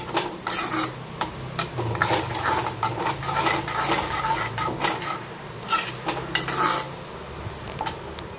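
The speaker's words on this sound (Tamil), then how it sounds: "இப்போ இதை நல்லா மிக்ஸ் பண்ணி விடுங்க" Chickpea masala stirred in a pan with a metal spoon, giving steady scraping and clinking close by, with frequent sharp taps against the pan.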